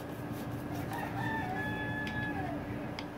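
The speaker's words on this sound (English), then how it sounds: "That rooster, he roosts all day long." A rooster crows at a distance beside a motorcycle workshop, one drawn-out call over a steady background hum and clatter of shop noise.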